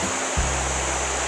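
Cold, clear river water flowing steadily at a riverside campsite, a close, constant rushing wash that swells in briefly near the start and then holds an even, full roar.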